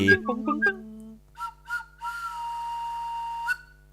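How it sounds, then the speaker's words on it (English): A few short whistle toots after some speech, then a longer sustained whistle blast with a sharp final peep, fairly close and clear. "I've brought my whistle."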